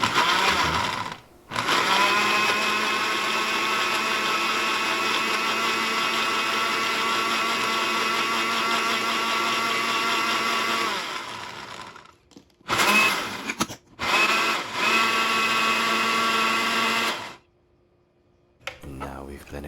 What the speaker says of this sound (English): And now we've blended it for approximately 15 seconds